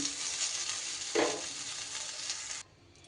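Eggplant frying in hot oil in a wok, a steady close sizzle with a brief louder crackle partway through before the hiss drops away near the end.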